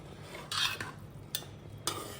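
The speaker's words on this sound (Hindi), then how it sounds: "मिक्स कर लेते हैं अच्छे से।" A spoon stirs and mixes veg pulao topped with desi ghee and green coriander in a pot, making faint scraping and clinking sounds in a few short bursts over a quiet background, with no speech.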